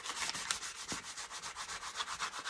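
Dark glaze paint being rubbed onto a painted piece by hand, a steady run of soft, close scrubbing strokes in a quick repeating rhythm, with no talking.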